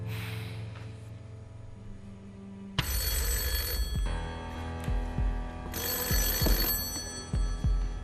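A telephone bell rings on the Deal or No Deal game show, two loud, close bursts of rapid trilling with a pause between them and no talking over the rings.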